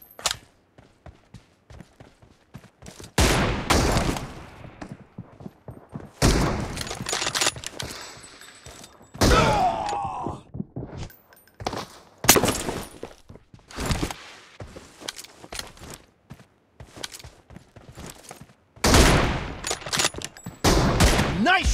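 Gunfire in PUBG Mobile comes in repeated loud bursts of rapid automatic shots with pauses of scattered single shots and movement between them.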